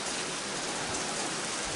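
Rain falling at a farm hisses as a steady, dense wash with no distinct drops or pauses, even and fairly soft throughout.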